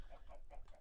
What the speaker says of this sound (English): I got a few chickens in here.